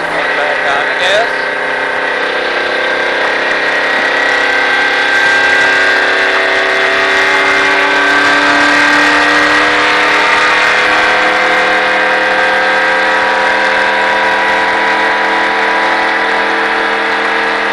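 Stock car on the track at the Richard Petty Driving Experience, its engine roaring loud and close as it accelerates steadily, with rising harmonic tones under a continuous droning whine throughout.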